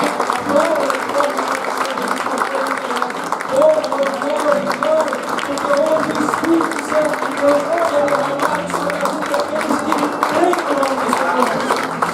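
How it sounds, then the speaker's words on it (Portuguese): Church congregation applauding during a worship service, steady clapping from a crowd that continues throughout under ongoing voices and music-like tones. "Se você puder aplaudir o nome do Senhor Jesus"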